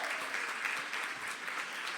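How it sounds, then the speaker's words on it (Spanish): A church audience applauds at a women's gathering, a soft, fairly distant patter of many hands clapping steadily without a break. "Un aplauso"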